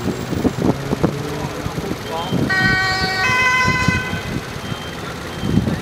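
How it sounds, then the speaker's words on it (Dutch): Ambulance siren at a serious traffic accident, a two-tone wail sounding for a couple of seconds over street noise and traffic, with people talking nearby throughout. "Nou, daar gaat nog een ambulance."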